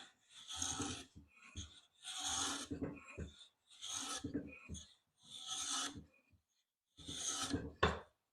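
Hand plane taking fine shavings from beech, five long rasping strokes in an even rhythm with short pauses between, close and clear with no talking.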